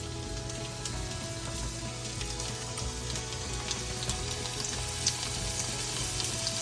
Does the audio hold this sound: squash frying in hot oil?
yes